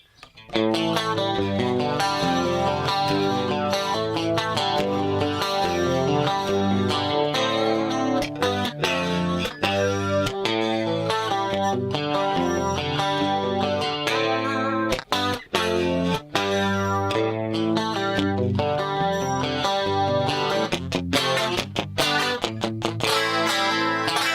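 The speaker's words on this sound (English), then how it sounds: "Almost sounds like a crap acoustic guitar, right?" An effected electric guitar with a thin, boxy tone like a cheap acoustic strums chords continuously with a steady rhythm and a few brief breaks.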